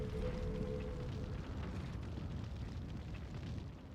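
A cannon explosion in Final Fantasy XIV, a sustained deep rumbling blast with crackling debris that holds steady and loud for several seconds with no voices.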